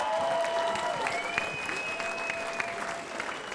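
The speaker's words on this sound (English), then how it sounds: "Give them another round of applause" An MMA event crowd applauds Ohio fighters after a three-round bout, a dense roar of clapping with whistles and a few cheers carrying through the arena.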